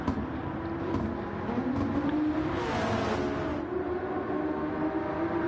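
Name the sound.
race car engine revving in racing video game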